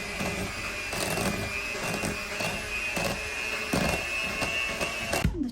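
An electric mixer whirs steadily through soft cheese filling for a triple layer chocolate cheesecake, with rhythmic thumps as the beaters work the bowl, close and loud, then cutting off abruptly at the end.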